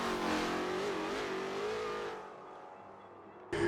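A car engine roars as it accelerates, with strong rising harmonics, then fades as it pulls away. A sharp burst of noise comes at the very end.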